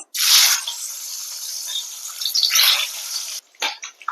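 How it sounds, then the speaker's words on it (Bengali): Eggs coated in salt and turmeric drop into hot oil and fry with a loud, bright hiss that bursts up, settles into a steady crackle and swells again before cutting off, followed by a few short sputters. "তেল গরম হয়ে গেছে এবার ডিমগুলোকে ভেজে নেব"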